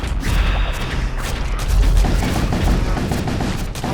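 Spaceship weapons firing in the space combat game Void War: a steady dense barrage of rapid booming shots and mechanical clatter, loud and continuous.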